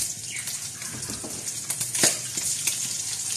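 Onions sizzling and frying in hot oil for a Filipino corn soup, a steady crackling hiss with a few stirring scrapes, close and continuous.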